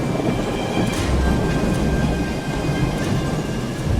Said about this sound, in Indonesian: deru angin atau suara guntur